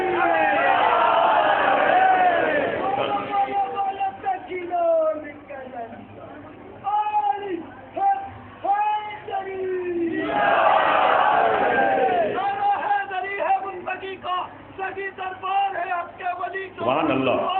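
A crowd at a religious gathering raises loud massed chants of slogans in two bursts, one at the start and one midway, between stretches of a single man's amplified speech from the stage.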